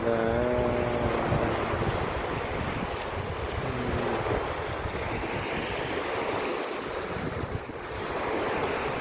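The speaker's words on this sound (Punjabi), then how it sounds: "ਵੱਡੇ ਵੱਡੇ ਲਹਿਰਾਂ ਉੱਠਦੀਆਂ ਸਮੁੰਦਰ ਦੀਆਂ" Big sea waves rise and roll in a continuous loud roar, with heavy wind buffeting the microphone throughout.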